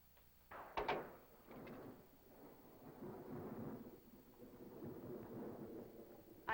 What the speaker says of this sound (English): Do you have storms like this all the time or often?